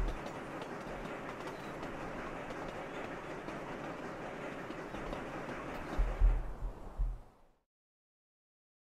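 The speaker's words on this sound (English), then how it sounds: "Lumber train." A lumber train running on track in the city-building game Sweet Transit, giving a steady rumbling roll with clickety-clack wheel noise for several seconds, a few heavier thumps near the end, then silence.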